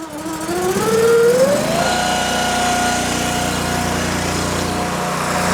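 An engine-driven kindling machine, a log splitter, starts up and runs with a rising whine before settling into a steady, loud, close-up drone with no voices.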